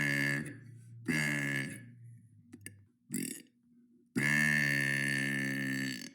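Loud, drawn-out burps, one of a daily series of one hundred days of burping: a short belch, a longer one, a brief grunt-like burst, then a long sustained final burp, all close and without speech.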